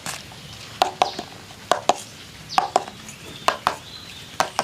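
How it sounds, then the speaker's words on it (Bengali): Small bowls of pitha batter are tapped on a surface to settle the batter, giving a steady run of short, sharp knocks in pairs and singles, close and fairly loud, with quiet room noise between them. "এবার বাটিগুলোকে একটু ঘা দিয়ে নেব"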